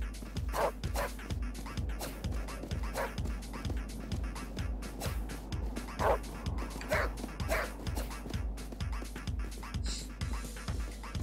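Dogs barking repeatedly in the video game Tokyo Jungle, a rapid regular string of short barks and yips over a low steady hum, with brief talk in places.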